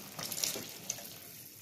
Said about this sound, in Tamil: இப்போ வந்து புளி சேர்த்துடலாம்.